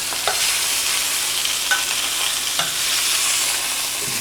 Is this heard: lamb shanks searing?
yes